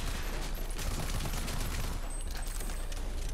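Shotgun fire in the video game Rage 2: a dense, continuous barrage of loud, overlapping blasts with no pause across the whole stretch.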